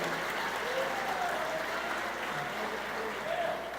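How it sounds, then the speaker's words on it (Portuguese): A church congregation applauds steadily, a continuous roomful of clapping with faint voices mixed in and a low hum beneath. "Aí pode aplaudir, irmão, pode aplaudir, isso é igreja"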